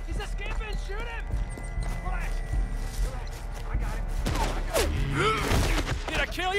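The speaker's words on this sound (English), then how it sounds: "He's escaping! Shoot him!" A Red Dead Redemption 2 shootout with gunfire cracking during a chase, mixed with horse hooves clopping and a whinny, while people talk and shout over the commotion.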